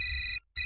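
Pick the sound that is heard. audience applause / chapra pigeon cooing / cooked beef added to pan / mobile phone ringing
mobile phone ringing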